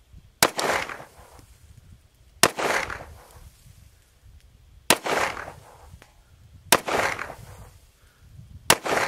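A Regent R200S 1911 handgun fires five sharp shots at the range, spaced about two seconds apart, each a loud, close crack with a short echoing tail.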